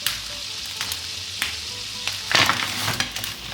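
Butter and chocolate melting together in a pan give a soft, steady sizzle with a few light scrapes and clicks, close and quiet, with no voices.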